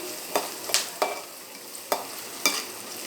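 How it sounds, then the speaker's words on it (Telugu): Diced potatoes go into a pan of frying onions, and a spoon stirs them. Sharp clinks and scrapes come every half second or so over a soft, steady sizzle close by, with no voices. "ఆ వాసన పోయిన తర్వాత మనం ఆలు కట్ చేసుకున్నాం కదా, ఆలు వేసేద్దాం."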